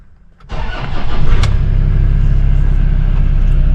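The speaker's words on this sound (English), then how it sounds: "Start the vehicle and run through the gears." A Toyota Hilux engine cranks and catches after about half a second, then settles into a loud, steady idle rumble close by.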